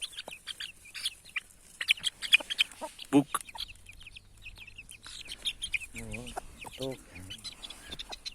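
Indian chicks and hens cluck and chirp in a loose, irregular stream close by, with a few sharper calls standing out, while a person talks intermittently over them.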